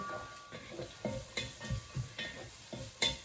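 Chopped onion and carrot fry in olive oil in a pan, with a soft continuous sizzle broken by a regular series of scraping stirs about every half second, close up and with no talk.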